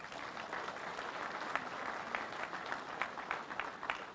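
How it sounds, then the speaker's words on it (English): A crowd at a United Mine Workers union rally applauds, a steady wash of many hands clapping with scattered sharper claps standing out, moderately distant and without speech. "Please give them a round of applause."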